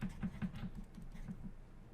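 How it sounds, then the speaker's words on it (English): Keys clatter on a computer keyboard in a quick run of close, light taps that trails off toward the end, with no voices. "and I type in"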